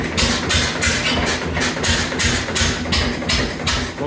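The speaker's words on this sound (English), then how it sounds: "So this is my 1921 Lister TM." A 1921 Lister TM stationary engine with early magneto and external fuel tank runs close by, chugging in an even, regular beat with a deep low rumble.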